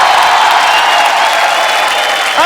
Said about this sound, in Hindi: एक बार जोरदार तालियां क्योंकि भाई के लिए हो जाए।